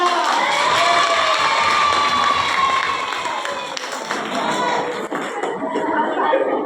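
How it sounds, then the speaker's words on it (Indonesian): A crowd cheers and shouts loudly with applause mixed in at a school farewell for ninth graders, many young voices whooping together, fading slightly then rising again. "mari kita beri tepuk tangan untuk kelas 9"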